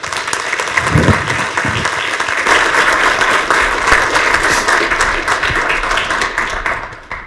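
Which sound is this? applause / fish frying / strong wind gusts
applause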